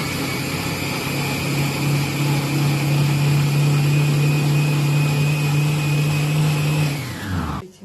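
A Monsieur Cuisine Connect food processor runs at speed 6 with a loud, steady motor whir and high whine that holds for about seven seconds, then winds down and stops.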